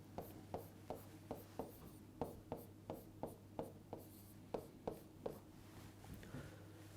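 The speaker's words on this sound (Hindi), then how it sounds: "तो सबसे पहले हमारा जो वर्ड है उसे लिख लेते हैं" Chalk or marker strokes write a word on a board, a quiet run of short, evenly paced scratches that repeat through the whole stretch with brief pauses.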